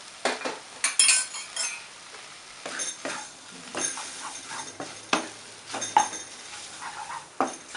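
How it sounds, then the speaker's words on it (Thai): Glass noodles with shrimp and cha-om being stir-fried in a pan, heard as irregular scraping and clinking spatula strokes against the metal with a faint sizzle underneath, close up and without speech. "ก็ผัดให้ทุกอย่างเข้ากันนะคะ"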